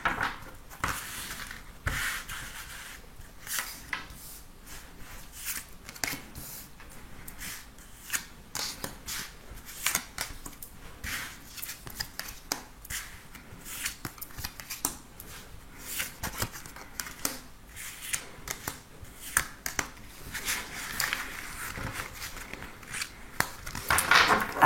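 Tarot cards are shuffled and drawn in a quiet room, with soft irregular rubbing, flicking and slapping sounds coming in close bursts over a faint background, and no voice present.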